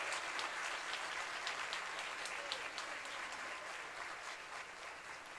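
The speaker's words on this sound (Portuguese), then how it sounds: "Vamos aplaudir ao Senhor com muita alegria." A congregation at an Assembly of God women's congress applauds in praise, a broad continuous wash of many hands clapping in a large hall, heard faintly from a distance and slowly tapering off.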